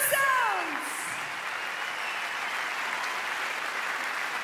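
Applause fills a large ice-show arena for a singer and two Canadian violin virtuosos, a broad, even wash of many hands clapping that begins under a fading voice and holds steady.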